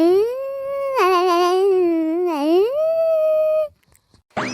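A person's voice imitates a dog, with drawn-out howling and whimpering tones rising and falling, close and loud, then a brief pause.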